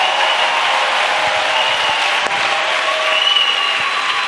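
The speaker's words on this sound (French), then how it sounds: "Let's clap for Jesus." A church congregation applauds for Jesus with steady, dense clapping that fills the room evenly and holds strong from start to finish, with no voices above it.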